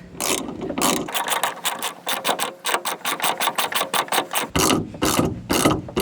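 A hand ratchet tightens a bolt during a roll-up tonneau cover install on a 2020 Jeep Gladiator, giving loud, close, rapid clicking strokes in quick repeated bursts with a brief pause midway.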